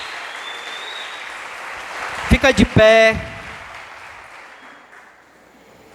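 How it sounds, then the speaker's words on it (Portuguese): A church congregation bursts into a short, loud round of clapping, a few sharp claps swelling then fading, with a preacher's voice speaking before and after. "Dê um aplauso a Jesus."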